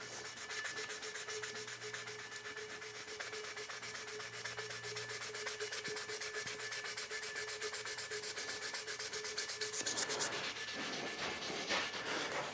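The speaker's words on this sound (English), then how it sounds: "You can see how much elbow grease I'm putting into it with that melamine." A melamine sponge scrubs steadily across a powder coated tumbler in continuous rapid back-and-forth rubbing strokes, close and moderately quiet, with no talking.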